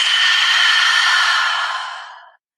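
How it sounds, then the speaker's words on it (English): A deep breath drawn in through the nose and released through the mouth, a single long, close, breathy exhale that fades out after about two seconds, heard alone. "Big inhale through your nose, exhale through your mouth."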